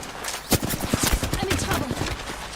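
Rapid bursts of gunfire from Apex Legends, several sharp close shots in quick succession with a voice talking over parts of the exchange.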